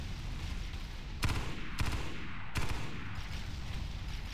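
Gunfire in the video game Halo SPV3, with dense continuous shooting, several heavier shot bursts standing out over a steady loud wash of weapon noise.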